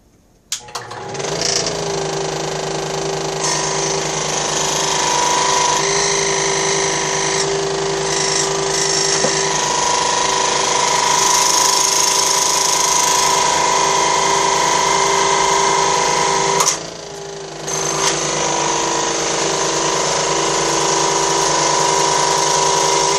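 A plastic A-arm from a Traxxas Slash 4x4 RC truck being cut with a power tool, heard as a loud, steady high whine that runs for about twenty seconds with one brief dip partway through.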